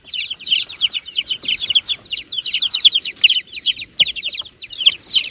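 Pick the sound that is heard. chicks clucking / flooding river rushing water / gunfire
chicks clucking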